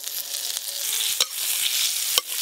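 Paneer cubes sizzle steadily in butter in a pan, a continuous hissing fry with a couple of sharp clinks from a utensil against the pan.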